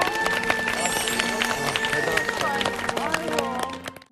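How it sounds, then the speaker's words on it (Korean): A studio audience on a Korean TV talk show claps steadily for about four seconds, dense rapid clapping mixed with voices and cheers before it fades out. "이 자리까지 계신 거예요. 박수 한번."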